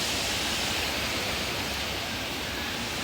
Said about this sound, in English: Oh, that was the water moving.